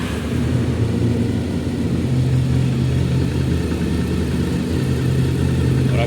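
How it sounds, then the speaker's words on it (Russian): A warm Honda VFR 750F motorcycle engine idles steadily and close, a smooth even hum with a slight rise in pitch partway through. "Так, мотоцикл прогрелся, заводим на прогретый двигатель."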